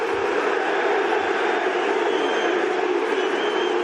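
Arena crowd at a boxing event roaring steadily after a heavyweight fight, a dense, loud wall of voices with no clear chant rhythm audible, continuous throughout.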